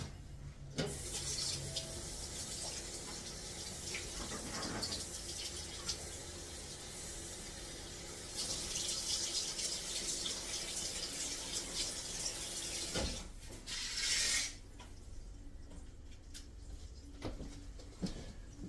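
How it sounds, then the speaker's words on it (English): Tap water runs steadily into a kitchen sink as it is flushed through a natural sausage casing for venison snack sticks, a continuous close splashing rush with a brief louder surge near the end and no talk. "take our casing over to the sink and make sure that we put some water down through it"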